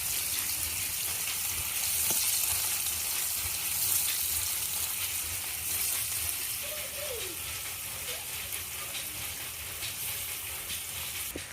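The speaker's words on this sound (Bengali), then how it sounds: "আমি কিন্তু কড়াইতে অনেকগুলা মাছ দিয়ে দিচ্ছি তো মাছগুলো এক পাশ ভাজা হইতে হইতে" Many small puti fish fry in soybean oil in a wok, giving a steady, close, even sizzle that continues throughout with faint scrapes and clinks on top.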